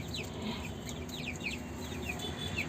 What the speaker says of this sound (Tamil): கோழிகளே கோழிகளே